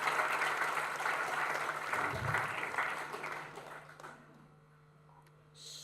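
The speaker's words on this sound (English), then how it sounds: "everyone give Ellie a big round of applause" A conference audience applauds a presenter named Ellie at a React London meetup, a dense wash of clapping filling the first four seconds before thinning and fading, with a faint hum underneath.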